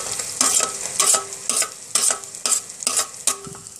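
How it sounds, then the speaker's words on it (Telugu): Ginger garlic paste frying with cooked tomato in a pan for mutton head curry, stirred with a spoon in rhythmic scraping strokes about twice a second over a continuous sizzle, close and clear with no talking. "దీని పచ్చివాసన పోయే వరకు 1-2 నిమిషాలు వేయించుకుందాము."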